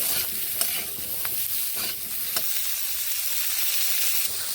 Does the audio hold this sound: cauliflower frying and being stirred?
yes